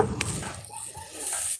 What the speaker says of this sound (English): The dog's barking at them.